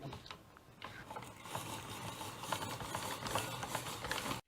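A hand-cranked spiralizer turns zucchini into long spaghetti-like strands over a cutting board, a quiet, continuous ratcheting whir of blade and gears with faint clicks throughout.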